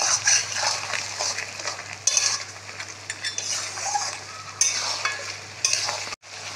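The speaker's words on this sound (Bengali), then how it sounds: "একটু জল দেবো, দিয়ে আবার একটু কষবো।" Masala stir-fried in a pan with a little water gives a close, steady sizzle broken by frequent spoon scrapes and clinks against the pan, with no one talking.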